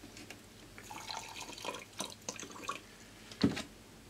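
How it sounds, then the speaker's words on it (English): Distilled water is poured into a small battery pot holding copper oxide and zinc, giving faint, scattered splashes and drips with a brief clink near the end in a quiet room. "you add some distilled water to a level."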